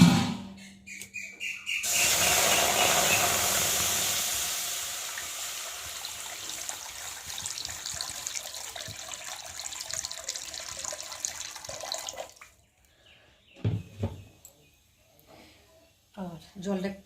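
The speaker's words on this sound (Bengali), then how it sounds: "তো চলো এখন আমি কড়াইতে জল দেব।" Water runs in a steady rushing stream into a kadai for cooking, lasting about ten seconds, followed by a few clinks and birds chirping in the background.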